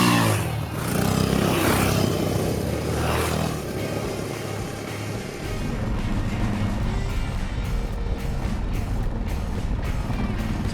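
A Yamaha XT660R dual sport motorcycle riding on trails in Sweden, its single-cylinder engine droning steadily and rising and easing with the throttle, close and continuous without talk.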